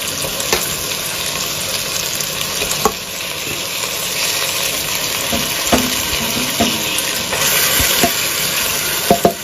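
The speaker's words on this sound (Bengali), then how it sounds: "এইবারে দিলাম ম্যারিনেট করে রাখা মাংসের পিসগুলো।" Marinated chicken pieces frying in hot oil with Kashmiri red chilli powder and spices for Bengali chicken kosha, giving a loud, dense, continuous sizzle with occasional soft knocks of a utensil.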